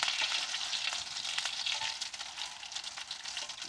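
Taco shells frying in hot oil in a pan, a steady dense crackling sizzle that holds at an even level throughout, with no talk over it.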